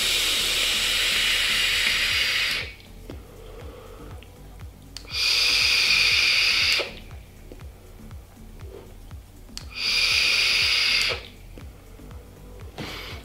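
A Vapester Original vape loaded with Monster Energy e-liquid gives three long, airy drags, each a close, steady hiss of about two seconds, separated by quieter pauses.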